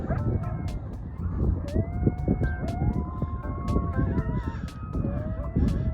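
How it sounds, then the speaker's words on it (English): Coyotes howl and yip outdoors in Soledad Canyon near old copper mines, a chorus of rising, wavering calls over a steady low rumble from a passing train. "a bunch of the coyotes are howling"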